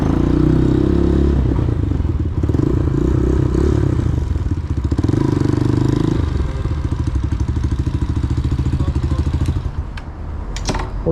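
A 200cc enduro motorcycle engine runs close by, a loud, rough mechanical drone that rises and dips with throttle, its firing pulses turning into a rapid chatter before easing off near the end.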